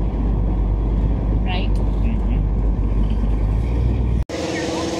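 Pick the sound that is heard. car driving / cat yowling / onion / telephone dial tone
car driving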